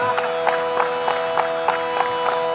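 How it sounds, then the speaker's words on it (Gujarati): Audience at a Gujarati dayro folk stage show clapping in a steady rhythmic beat, a crowd sound from a little distance over a continuous droning musical tone. "આવા સારા કામમાં નીડા ન હોય ને એને એક વખત જોરદાર તાળીઓથી વધાવો"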